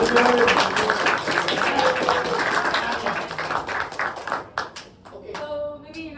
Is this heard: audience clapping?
yes